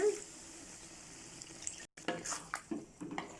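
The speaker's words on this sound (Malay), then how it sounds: "sekarang masuk dalam 2 cawan air ya" Two cups of water go into a pot of kampung-style fish curry, a soft close pour and splashing that briefly breaks off, then returns in short sloshing bursts.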